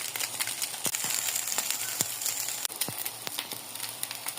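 Garlic and ginger paste frying in a pan for chicken samosa filling, a steady close sizzle with scattered sharp pops and crackles throughout.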